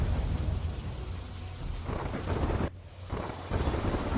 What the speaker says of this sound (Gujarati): ઝરમર ઝરમર આ વરસાદ જે માણવાલાયક પણ છે